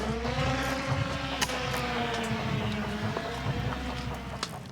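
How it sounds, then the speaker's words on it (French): A Russian military drone buzzing overhead at night during the war in Ukraine, a steady, droning engine whine with layered harmonic tones that holds evenly for several seconds without voices. "Soudain, un vrombissement retentit."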